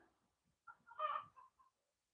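A rooster lets out a short, fairly faint crow in a quiet farmyard, a single rising and falling call lasting about a second with no talk.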